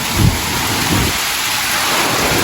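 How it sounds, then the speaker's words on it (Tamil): Heavy, steady rain in Jaffna roars loudly throughout, with a deep rumble of thunder swelling near the start and fading under the downpour. "அவ்வளோதுக்கு பெய்யுது மழை"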